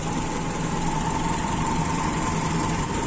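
A Toyota Kijang engine with an Aisan carburetor idling steadily, giving a constant, even drone with a low hum and no change in speed throughout, with no talking.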